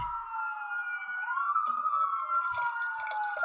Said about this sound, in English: Sirens noises